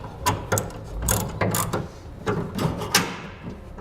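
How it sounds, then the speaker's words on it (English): A ratchet fitted with a 1/2 inch socket tightens a flange nut while a gooseneck trailer hitch is installed on a 2014 Toyota Tundra. It makes close, loud bursts of clicking in an uneven rhythm over several strokes. "We'll take a 1/2 inch socket, tighten it down."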